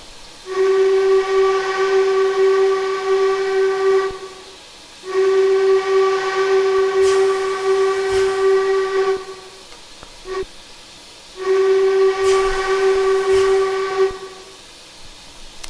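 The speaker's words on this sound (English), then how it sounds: "So let's listen to our whistle." Steam locomotive whistle of an 1889 Baldwin 4-4-0 in Train Simulator Classic, blowing three long, loud, steady blasts separated by brief pauses, with hissing steam underneath and no talking.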